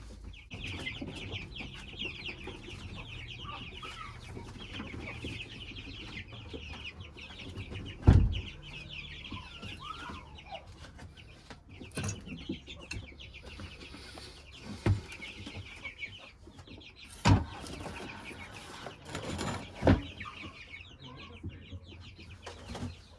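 Soft clucking from several young chicks runs steadily at moderate volume, with a few sharp knocks and thumps breaking through the low background.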